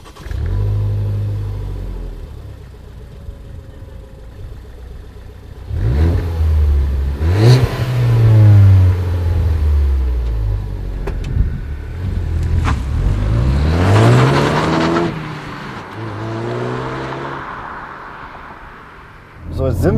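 A 2012 Ford Focus ST MK3 drives on a road, its engine revving loudly in repeated rising and falling sweeps over a steady rumble, while someone talks throughout.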